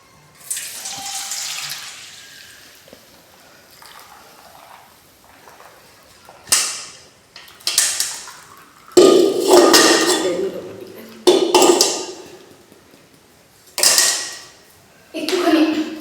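Water splashes and sloshes around a metal bucket as it is rinsed after milking a cow, with loud bursts of pouring and clanking metal between quieter pauses, and a voice speaks in the background.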